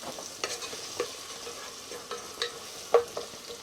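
Onions frying with tomato and masala in a pot outdoors, a soft continuous sizzle with occasional light stirring knocks and scrapes.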